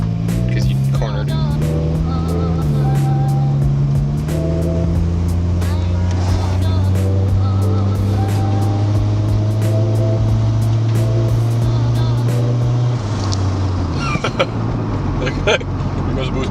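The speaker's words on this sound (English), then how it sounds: "It made turbo noises though. It does make turbo noises, and it makes about 2 psi." Engine drone of a turbocharged Honda Del Sol running at about 2 psi of boost, steady and loud inside the car with rising and falling pitch as it shifts, plus rattles and occasional clunks over the last few seconds.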